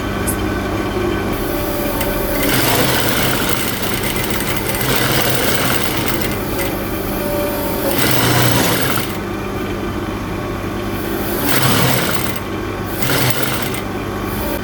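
Sewing machine running steadily up close while stitching gather stitches on a fabric bonnet, a continuous mechanical whir with brief pauses and restarts.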